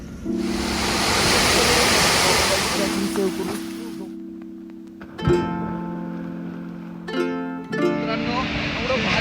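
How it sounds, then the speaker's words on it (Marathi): Nanemachi waterfall in Raigad district rushes as a loud, steady roar of falling water for the first few seconds, then fades beneath a melodic musical tune that carries on to the end. "आतापर्यंत सगळ्यात भारी धबधबा माझ्या लाईफ मधला"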